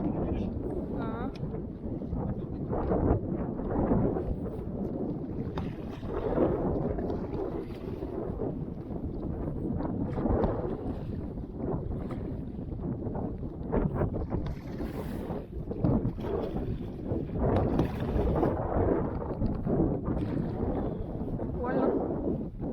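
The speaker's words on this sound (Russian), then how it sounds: "Первый раз я так плыву с одним веслом" A boat being rowed with a single oar through wind and waves on an autumn fishing trip, steady rough rushing wind and water noise with irregular splashes and knocks throughout, continuous and close.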